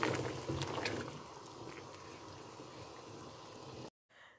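Walnut jam with plenty of sugar simmering in a pot on a gas stove, a steady dense bubbling and hiss close by, a few louder pops early on, then cutting off abruptly near the end.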